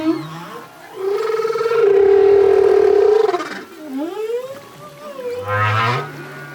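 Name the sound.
song of a male humpback whale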